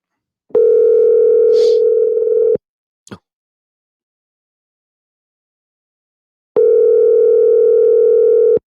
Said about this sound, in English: Let me see if I can get Toya on the phone for this real quick